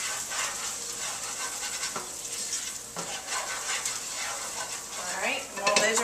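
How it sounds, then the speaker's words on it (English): Mushrooms being stirred in a sizzling pan, a spoon scraping and clinking against the metal over a bright, continuous frying hiss, close-up with a louder scrape near the end and no talking. "Now, let's give these a stir."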